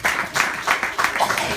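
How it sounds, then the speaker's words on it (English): An audience in a hotel gives a short round of applause, quick bursts of clapping rising and falling in uneven waves, with a little speech underneath. "Give him a round of applause."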